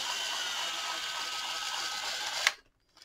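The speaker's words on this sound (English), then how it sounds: "I'm just going to put a couple screws back in it" A power driver whirs steadily, driving screws back into a Black & Decker 18V pole saw, then stops abruptly with a short click, leaving near silence.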